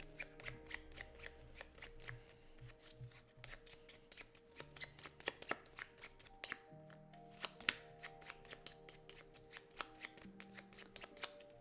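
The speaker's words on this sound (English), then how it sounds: "We're going to shuffle these up" Playing cards for the board game Inventors of the South Tigris being shuffled by hand, with repeated crisp riffles and soft slaps in an irregular rhythm, close and quiet, with no talking.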